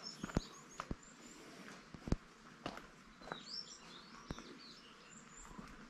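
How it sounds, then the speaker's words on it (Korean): Small birds chirp faintly and intermittently near a huge 600-year-old plum tree at Seonamsa temple, scattered light calls over quiet outdoor ambience with occasional soft footsteps or knocks. "새소리가 들리고,"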